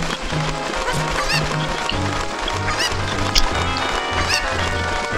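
Clucking chicken in the video game Ocarina of Time, a run of repeated calls over steady game music, fairly loud and close throughout.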